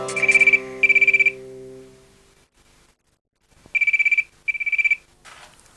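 A telephone rings in a domestic room, sounding two quick bursts of trilling electronic tones, a pause, then two more bursts, loud and near, with a fading tonal note after the first pair and no talking.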